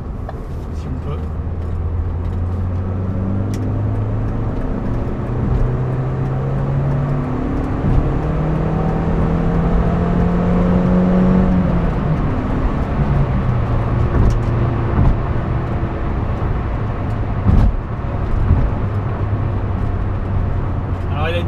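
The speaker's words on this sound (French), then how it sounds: "Alors il a une bonne reprise, une bonne accélération par rapport à la puissance disponible." A 1999 Renault Megane I Coupe with a 1.6 16V 110 engine pulls hard from about 50 in third gear, engine note rising through the gears from inside the cabin, with a voice talking over it.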